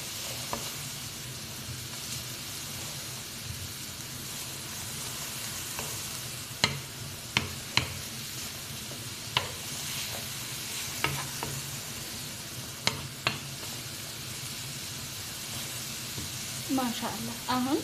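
Onions are stirred dry in a pan over raised heat, giving a soft, steady sizzle and hiss with occasional sharp scrapes and taps of a utensil against the pan, fairly quiet and close, with faint voices in the background.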